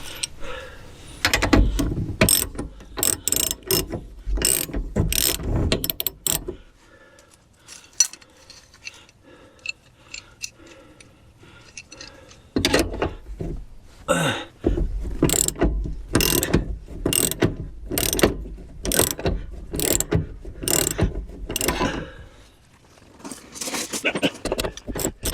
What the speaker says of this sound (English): Tighten it down, and then it needs to have a little bit of play.